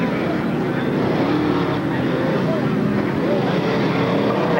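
Class 6 off-road race vehicles roar nearby at a 1992 SODA race in Bark River, Michigan, a loud sustained engine drone mixed with wind buffeting, with no clear gaps between passes.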